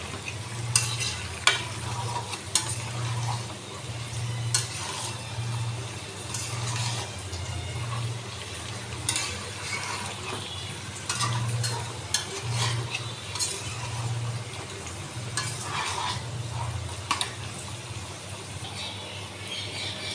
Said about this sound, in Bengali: ভালো করে আবার নেড়ে দিয়েছি